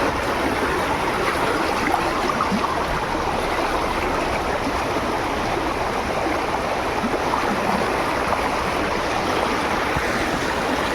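Flood water surging across village farmland and paddy fields, a steady, dense rushing flow that holds at an even level throughout with no voices.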